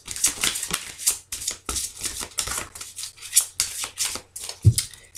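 Tarot cards are shuffled and cut by hand, giving a rapid series of crisp papery riffles and slaps in short, uneven bursts, close and fairly loud.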